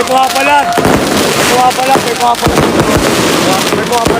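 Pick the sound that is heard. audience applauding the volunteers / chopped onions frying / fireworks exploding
fireworks exploding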